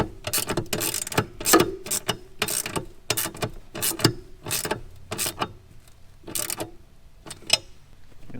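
A 10mm quarter-drive ratchet tightens a nut during a car fuel kit install, giving repeated loud clicking bursts in quick back-and-forth strokes with brief pauses, close up and alone.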